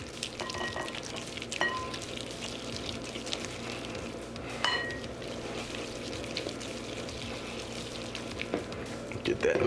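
Egg yolks being stirred into ube in a bowl for a white chocolate soufflé: a close, steady wet scraping and stirring over a constant background hiss, with a few sharp utensil clinks against the bowl.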